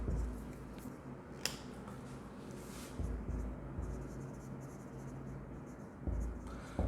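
Pen scratching across paper while accounting figures are written out, a soft continuous scribble with a few sharper strokes and taps, close and quiet, with no talking.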